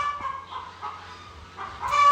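A hen clucks nearby in a few short, throaty bursts with brief pauses between them, ending on a louder call, with no talking.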